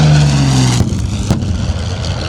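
A World War II B-25 bomber at the Warbirds Over Monroe air show roars past loudly, its engine tone sliding downward as it goes by, then fading into a lower, rougher rumble.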